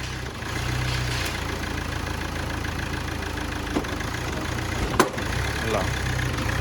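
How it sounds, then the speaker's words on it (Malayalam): A Chevrolet Cruze idling with a heavy noise from the flywheel and gearbox on the engine side, a steady low engine drone with a couple of brief knocks and clicks, recorded close. "ഫ്ലൈ വീലിൻ്റെ സൗണ്ടാണ് വരുന്നത്."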